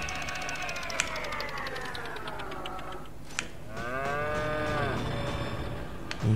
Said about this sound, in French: Ici que c'est une vache qui danse.